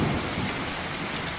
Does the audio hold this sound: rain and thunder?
yes